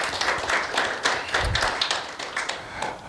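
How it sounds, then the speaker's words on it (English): An audience at a community talk event gives sponsors a brief round of applause, with many hands clapping steadily and fairly close, plus a few sharper taps standing out. "So a nice round of applause for them."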